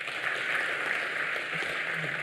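A university research and innovation week audience on campus claps for a new lab launch, a brief patch of moderate, fairly even applause heard at middle distance.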